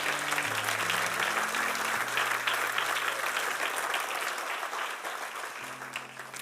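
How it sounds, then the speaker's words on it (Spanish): A church congregation claps steadily and loudly for the Lord, a dense wash of applause over low sustained organ or keyboard notes that shift pitch. "Dale un aplauso al Señor."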